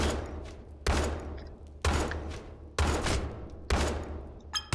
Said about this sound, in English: 2 of them are going to be shooting him